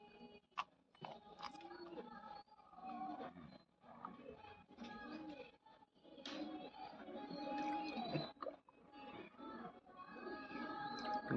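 Racing pigeons give low, faint coos through the stretch, with occasional rustles and soft knocks nearby in a quiet space.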